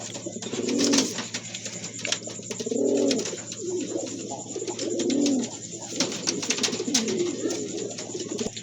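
A pair of pigeons coo close by in soft, repeated rounds of low, throaty calls, each swelling and fading every couple of seconds over a faint constant background hum.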